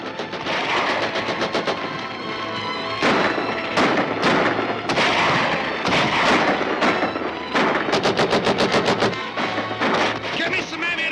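Bursts of rapid gunfire and heavy cannon blasts, loud and close, with rattling volleys and voices shouting among the shots.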